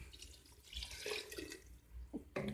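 Hot water poured into a cooking dish holding fried onion, tomato and spices, heard as a brief running, splashing gush close by, followed by a short clink and another quick pour.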